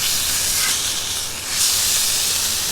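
A flipped burger patty sizzles on a grill, a loud, continuous bright hiss that briefly dips and then surges again as it settles, close and steady.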